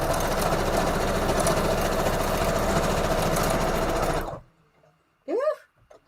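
A sewing machine running a straight stitch on a paper collage, with a loud, steady mechanical hum and rapid needle clatter lasting about four seconds before it stops abruptly, followed by a short voice.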